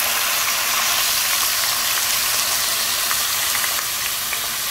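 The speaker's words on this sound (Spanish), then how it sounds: "Ahora sí vamos a freír los camarones." Shrimp frying in a pan over medium-low heat for a sauté with vegetables, a loud, dense, continuous sizzle with crackling spatters throughout and no voices.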